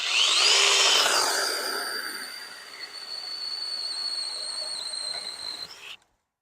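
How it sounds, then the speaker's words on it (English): A small multi-tool trimmer fitted with an oiled mini chainsaw chain cuts through wood, a loud high-pitched whining buzz at the start that settles into a steady running drone for several seconds before stopping abruptly. "First, let's use it as a mini chainsaw."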